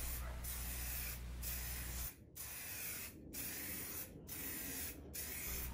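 A spray can sprays vintage amber color onto an electric guitar kit body in close hissing bursts, one long pass followed by several shorter rhythmic sprays with brief gaps.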